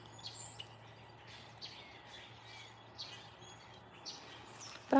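Several birds sing outdoors on a quiet morning in small-town Oxford, Maryland, with scattered high chirps and short trills over soft background hum, ending in a brief louder knock.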